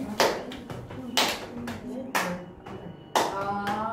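A group does rhythmic scout clapping, sharp strikes in small groups at a steady beat, mixed with a person speaking over them.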